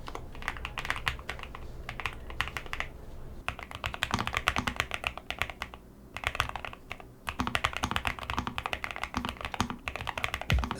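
Typing on a NuPhy Kick75 keyboard, a fast stream of crisp close-up key clacks in bursts, with short pauses between runs and occasional heavier bottom-out thocks.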